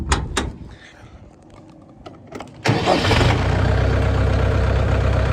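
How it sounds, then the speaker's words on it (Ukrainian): After some clicks and rattling, the small engine of a HORST L404 tractor cranks and catches, then settles into a steady, loud idle. "запускається тракторець дуже і дуже легесенько"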